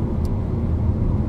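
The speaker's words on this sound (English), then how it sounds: "That's the Kona going through a corner." A Hyundai Kona Turbo takes a corner, heard as a steady low engine and road rumble that holds even for the whole moment, with no talking.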